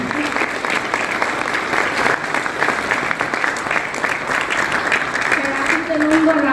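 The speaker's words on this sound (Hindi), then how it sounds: "एक बार आपके लिए ताली बजनी चाहिए।" An audience bursts into sustained applause for Arun Sajwan at an Olympic association gathering, dense clapping that runs steadily throughout, with some voices mixed in beneath it.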